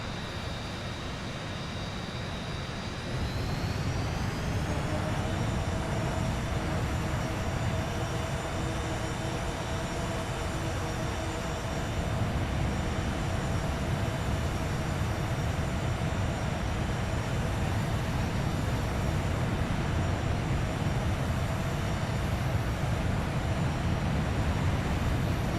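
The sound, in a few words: Avro Vulcan bomber engines in a flight simulator game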